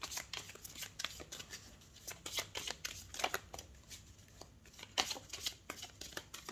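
Tarot cards shuffled and drawn, a rapid crisp riffling and flicking in uneven bursts with sharp snaps, fairly close and quiet, with no talking.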